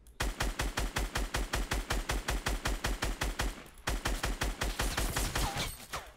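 Rapid automatic weapon fire in the Fortnite video game, a loud, evenly paced stream of shots that pauses briefly and then resumes, with no talk over it.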